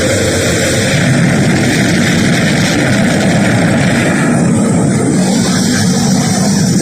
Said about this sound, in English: We've gone for main engine start. We have main engine start.